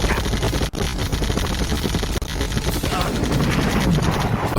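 Dense, continuous rapid gunfire rattles over the steady thrum of helicopter rotors in the video game Army Men: Sarge's Heroes 2, a loud chaotic battle din with a couple of sharp cracks.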